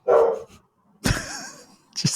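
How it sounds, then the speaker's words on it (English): A dog barks twice close by, each sharp bark clear and separate, with a short higher yip in between and a brief gap of quiet. "You made my dog bark."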